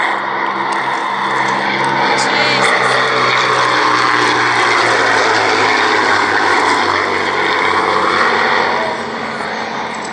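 Classic Hawker biplane flying at the Shuttleworth Fly Navy airshow, a loud sustained piston-propeller engine drone passing close overhead, easing slightly at the end.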